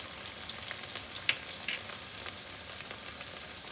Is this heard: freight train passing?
no